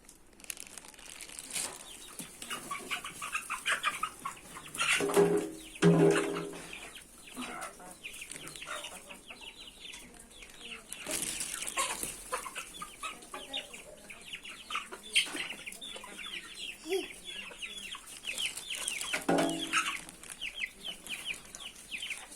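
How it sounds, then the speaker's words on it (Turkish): Hungry chickens cluck and squawk in a busy flock, with wing flaps and rustling, a few louder bursts rising above the steady clucking. "Bugün acıkmış tavuklarımız var."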